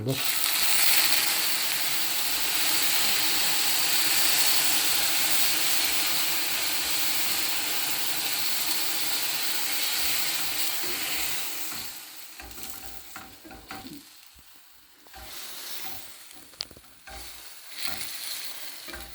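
Meat broth pours into a hot pot of Turkish mixed vegetable stew with meat and black pepper, setting off a loud, steady sizzle and hiss. The sizzle fades into stirring and clattering, with a voice briefly heard.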